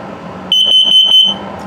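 A loud, piercing electronic alarm tone from an LP gas and carbon monoxide detector test in a 2021 Starcraft Autumn Ridge camper sounds steadily for under a second, close by, over faint background hum.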